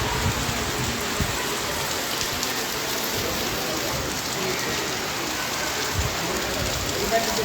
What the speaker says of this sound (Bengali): মুষলধারে বৃষ্টি হচ্ছে এই মুহূর্তে উত্তর সন্দ্বীপের